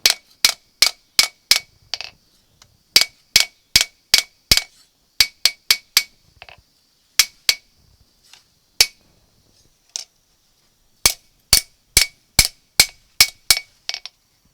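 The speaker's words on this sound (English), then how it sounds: "Try to get that edge out there even as I can with the hammer" Sharp metallic hammer strikes ring out at a forge, shaping a metal edge in quick bursts of several blows with short pauses between, clear and close, with a ringing clang on each hit.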